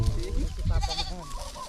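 A goat bleating close by, a wavering cry lasting about a second, with people's voices talking in the background.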